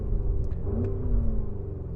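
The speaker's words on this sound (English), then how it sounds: "As soon as you go to sport or sport plus, the sport exhaust goes on" A Porsche Cayenne Turbo GT idles low and steady with its sport exhaust engaged, giving a close, even rumble and no clear rev.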